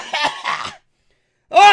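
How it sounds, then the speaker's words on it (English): A man with a cold coughs and clears his throat, two short rough bursts, then a pause before another louder, harsher throat-clearing sound, close and alone. "Gotta cough it up."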